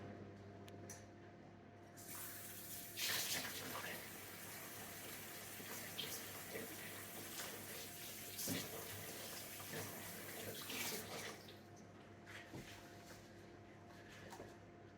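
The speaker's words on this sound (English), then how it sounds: "I'm just going to rinse out the inside again." Tap water runs steadily over cleaned squid being rinsed out in a sink, a continuous splashing gush with a few louder surges and shifts in flow, close by and without talk.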